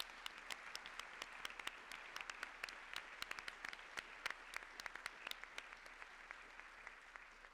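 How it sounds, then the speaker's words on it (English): A scattered round of applause at a women's public leadership event, quiet and distant, with individual sharp claps standing out against a soft background patter for several seconds. "Join me for a round of applause."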